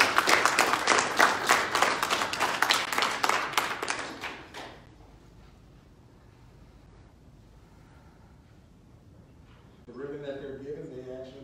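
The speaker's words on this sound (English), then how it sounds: "let's give them another round of applause." Audience applause at an Army JROTC awards ceremony, a dense burst of clapping for about four seconds that fades out, followed by quiet room noise and a voice starting to speak.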